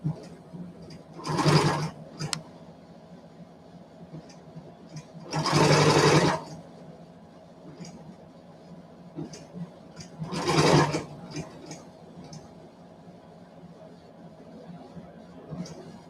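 A sewing machine stitching in three separate loud runs of a few seconds each, with quiet pauses between and faint handling noise in the background.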